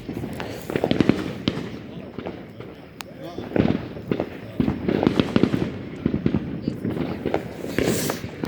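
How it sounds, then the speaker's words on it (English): 60-gram artillery shell fireworks burst in a 4th of July backyard show, a string of loud booming explosions and crackles arriving in bursts, with people talking and reacting between the blasts. "Those were 60-gram artillery shells. That were going boom."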